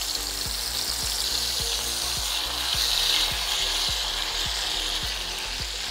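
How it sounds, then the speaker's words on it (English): Chicken pieces sizzle and crackle steadily in hot cooking oil, a continuous close frying hiss with small pops and an underlying rhythmic hum. "My oil is nice and hot. I'll go ahead and add my chicken."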